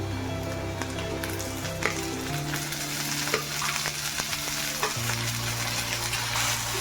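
Green chilies and green peas for a samosa filling stir-fry in a pan, a dense steady sizzle with scattered light scrapes and ticks of the spatula, close and quiet, a low tonal hum running beneath, no one speaking.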